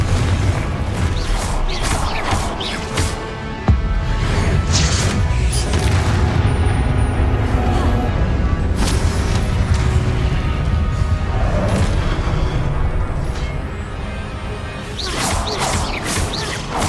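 Confringo blasting-spell explosions from a Harry Potter video game, booming crashes that burst out several times over a dense, continuous wash of game sound, loud throughout.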